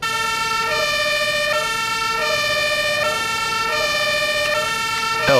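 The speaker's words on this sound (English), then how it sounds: "So what about a siren?" A fire truck siren from a Farming Simulator 22 electric fire defense mod wails loud and close in a steady two-tone cycle, alternating roughly every three-quarters of a second.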